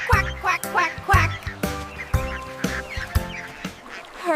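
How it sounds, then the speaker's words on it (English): Rhythmic duck quacks in an animated children's nursery rhyme about five little ducks, repeating in quick groups over a musical backing, loud and close. "Four little ducks went out one day. Quack, quack, quack, quack."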